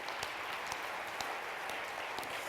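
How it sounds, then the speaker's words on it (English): An audience at an annual evening event applauds the sponsors, a steady patter of many hands clapping at moderate distance, with a few sharper claps standing out, with no talk over it. "let's applaud them"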